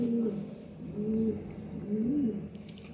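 Pigeons cooing close by in three rolling, throaty phrases, with a soft background hum and no talking; flying pigeons of favourite breeds, one two years old.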